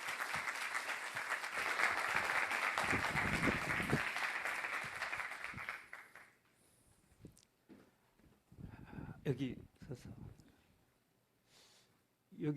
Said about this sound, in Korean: 여러분 박수 잘 치시잖아요.